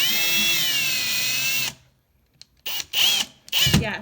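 Power drill with a changed bit boring into a wall to hang heavy items: a steady high whining run that stops, followed by several short bursts of the motor revving up and down.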